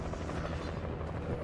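Helicopter rotor and engine drone from the Alan Wake video game, a steady loud low-pitched rumble and chop that fills the whole moment without pause.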